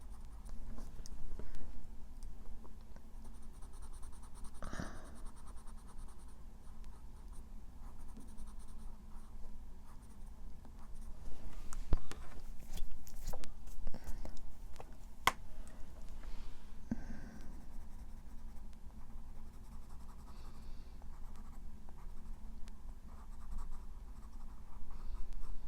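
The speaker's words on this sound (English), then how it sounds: "The Deco Pink and just go over the whole thing. Just gonna burnish it in to smooth it out." Colored pencil burnishing over a colored rose on paper, a continuous soft scratchy rubbing of the pencil tip, close and quiet, with brief louder strokes in the middle and no talk.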